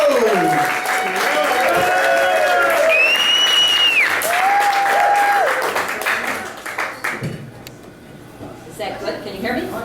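A bar audience cheers and claps for a performer being welcomed on stage, with a loud burst of applause and an announcer's voice over it, fading to scattered clapping after about six seconds.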